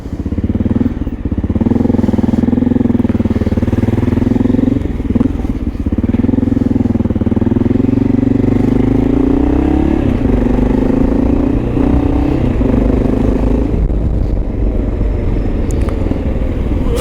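A Honda XR650L motorcycle engine runs close by with a loud, steady rumble, and its pitch shifts slightly now and then.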